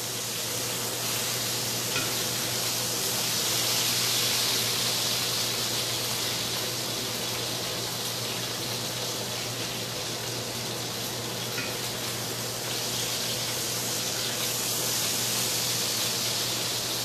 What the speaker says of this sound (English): This stuff is splattering everywhere.